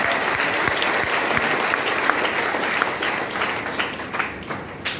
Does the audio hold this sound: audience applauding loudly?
yes